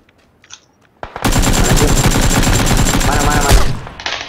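Sustained automatic gunfire in a squad-versus-squad shooter video game, a loud, dense burst of rapid rounds lasting about two and a half seconds before cutting off, with faint sounds before and after.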